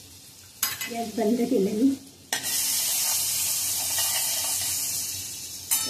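Butter melts in a hot pan for palak soup, a steady bright sizzle that starts abruptly and holds loud and continuous, preceded by a short stir and a brief spoken remark.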